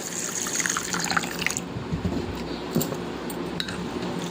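Water pours steadily into a bowl of white and black mustard seeds set to soak, a continuous close splashing trickle without pauses.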